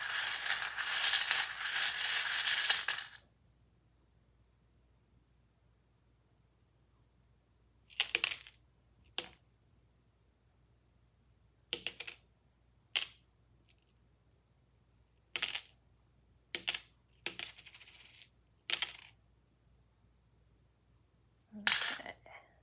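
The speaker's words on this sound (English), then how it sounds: "there'll be a bit of noise with the charms as we place them" Small charms set down one by one during a tarot card reading, sparse sharp clicks and clinks spaced over quiet stretches after a loud rustling burst at the start.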